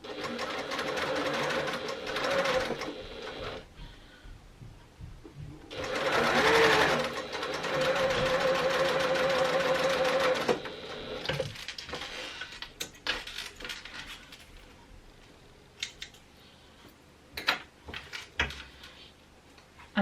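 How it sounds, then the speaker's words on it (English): A sewing machine set to its longest stitch length bastes a zipper pocket into a bag lining, running in several bursts of rapid, even stitching separated by pauses and faint handling clicks, close and clear with no talking. "let's baste it in place and get back to sewing. So I'm on my longest stitch length."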